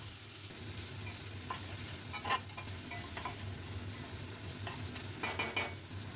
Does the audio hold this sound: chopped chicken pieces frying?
yes